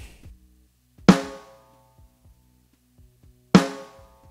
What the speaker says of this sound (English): This is the dry snare drum.